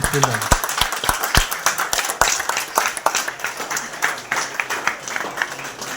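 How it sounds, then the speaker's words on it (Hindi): At an indoor medical-association function, an audience claps in welcome, sharp irregular hand claps sounding close and scattered while voices carry on through them. "जोरदार तालियों से स्वागत है"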